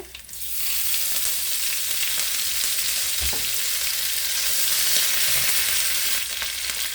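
Dried chillies, curry leaves and small shallots tempering in hot oil give a loud, continuous close-up sizzle, with a single soft knock of a spoon midway and no talking.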